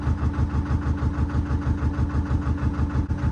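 A narrowboat's engine turning over at low revs while slowing toward idle, a steady close rhythmic diesel thump with a deep chugging pulse, even and unbroken, with no voices.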